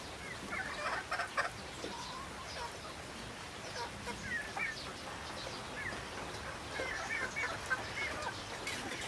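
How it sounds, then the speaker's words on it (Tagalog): Chickens and ducks on a farm make faint, scattered clucks and quacks over a soft background of rain, with short calls coming in small bursts. "Mga alaga nating manok, oh."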